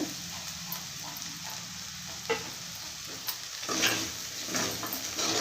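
Broad beans are stirred in a hot pan with a spice powder of roasted gram, dry coconut, dried chili, garlic and salt, giving a soft continuous sizzle with occasional sharp scrapes and taps of the spoon.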